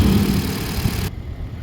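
A 2022 Toyota Corolla with a naturally aspirated 1.8 liter engine and about 152,000 km idles close by with a steady rumble and hum, which drops away sharply after about a second.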